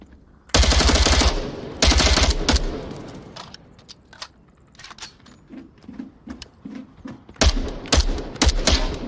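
MK rifle in the VR shooter Onward fires loud close automatic bursts, with a long burst near the start and another near the end, separated by scattered single shots and clicks.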